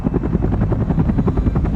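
A UH-1 Huey helicopter's rotor thumps in a fast, steady rhythm, loud and close, with a heavy low engine roar underneath and no voices.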